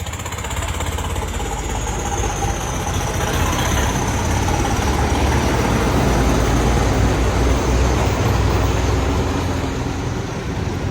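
A tractor engine idles steadily in a farm field, a continuous low rumble with a constant throbbing tone that stays at the same level throughout, with no voices.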